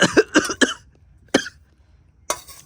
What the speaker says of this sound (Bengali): কাশি হয়ে গেল।